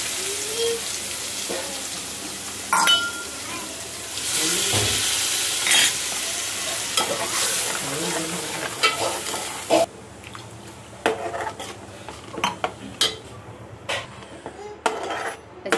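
Masala frying in oil for a surmai and bombil fish fry, a loud close sizzle with spoon scrapes and pan clinks that drops to quieter frying with sharp stirring clatters partway through.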